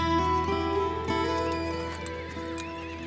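Horse whinnying loudly and clearly in Amazonian marshland, with hooves clip-clopping beneath the call.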